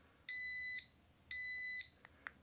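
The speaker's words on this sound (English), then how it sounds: "the taillight actually has a built-in speaker, so you could hear that beep right there" Bicycle tail light's built-in speaker emits two identical high, pure electronic beeps, each about half a second long with a second's gap, followed by a couple of faint clicks, close and clear in a quiet room.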